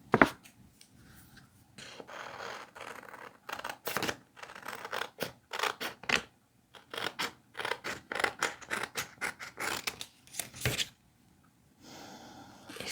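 Paper stickers are cut out by hand with scissors, giving a rapid series of close, crisp snipping strokes with short pauses, with no talking.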